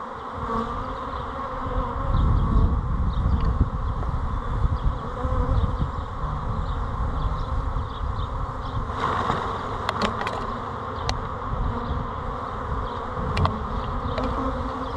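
Dense buzzing of many honeybees flying out of a hive close by, a continuous droning swarm with occasional sharper passes.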